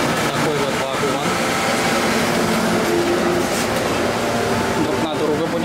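Interior of a moving passenger train carriage on the route from Ollantaytambo to Machu Picchu, with a continuous loud rumble, rattling and faint clicks under people talking nearby.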